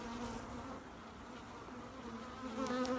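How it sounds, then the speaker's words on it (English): A dense, steady buzz of honeybees at a hive during a hive split, close and continuous, with a slightly rising drone toward the end and no voices. "Oh, I guess we got a robber bee. We have a robber bee."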